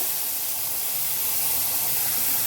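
Ginger, garlic, onion and tomato paste hit hot oil in a pan, giving a loud, steady sizzling hiss that fills the whole stretch without talk.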